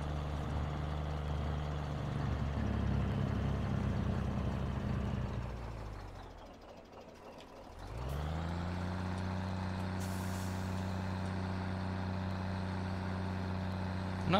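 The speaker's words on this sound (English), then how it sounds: "Well, this truck sounds good." A Kenworth truck engine in Farming Simulator 17 idles with a steady, heavy diesel drone that dips away for a moment, then settles back to a constant low rumble, with a brief hiss near the end.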